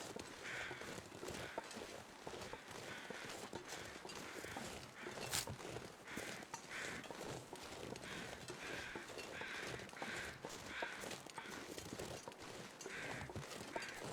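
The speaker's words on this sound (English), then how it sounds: "So hearing the crows there is a good way to know where you are in this dense fog" Crows cawing in The Long Dark, a faint, repeated series of harsh calls spread through the scene over a steady low ambient bed of fog-bound wilderness, with no talking.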